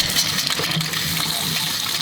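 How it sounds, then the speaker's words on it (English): Water gushes steadily from a tap that has just been turned on, a loud, close, continuous hiss and splash with no pauses or voices. "So, now we should have water."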